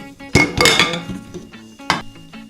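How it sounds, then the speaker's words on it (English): A metal pan is lifted away and a cooled meringue bowl is set down on a mixer in a home kitchen, making two sharp clanking knocks with a short rattle of metal between them. "So I'm going to get rid of my pan."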